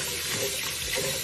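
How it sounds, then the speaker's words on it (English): Tap water runs steadily into a sink while rice is rinsed beneath it, a close, even hiss that never stops. "Rinse the rice."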